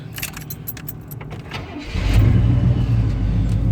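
Keys jingle briefly, then a 1992 Chevrolet Blazer's 350 V8 TBI engine starts up and settles into a loud, steady low rumble close by.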